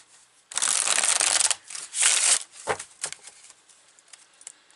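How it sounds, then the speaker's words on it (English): A deck of tarot cards is shuffled close by, with two long papery riffling bursts followed by several shorter flicks and taps that trail off into quiet. "Now I'm going to shuffle the tarot."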